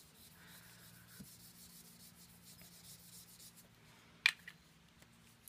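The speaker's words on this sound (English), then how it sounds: "And I will first prep with the powder tool." Soft, faint rubbing of an anti-static powder tool across card stock, a quiet brushing texture over a low background hum, broken by one brief sharper tap near the end.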